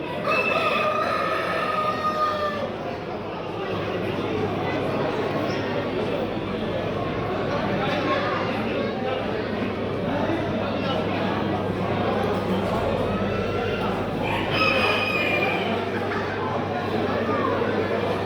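Champion roosters crow at a busy poultry fair, with a couple of clear crows rising over constant crowd chatter, clucking and people talking nearby.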